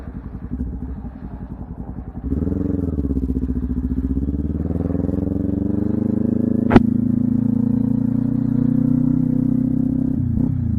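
Kawasaki Ninja 400 motorcycle engine running steadily through a low-speed turn on a residential street, a continuous loud drone that steps up after a couple of seconds, with one sharp click partway through.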